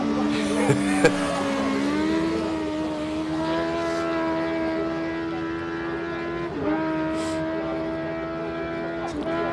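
A small Suzuki race car at a hill climb, its engine droning steadily as it passes, with tonal whine rising and falling and brief sharper spikes, heard at moderate distance throughout.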